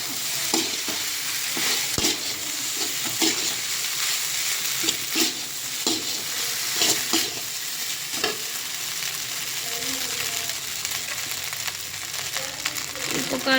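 Curry leaves and coriander stirred in a hot pan of oil, with steady bright sizzling and repeated scraping strokes of a spoon at an even, close-up rhythm throughout.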